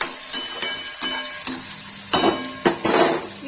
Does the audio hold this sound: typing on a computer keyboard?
no